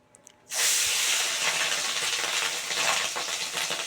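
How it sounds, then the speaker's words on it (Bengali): Oil bursts into a loud, steady sizzle as fish roe is dropped in over low gas, crackling and popping continuously after a brief quiet start. "ডিমটা দিলে খুব ফাটবে জানো তো গ্যাস কমিয়ে দিয়েছি বাবা পটপট করে ফাটবে"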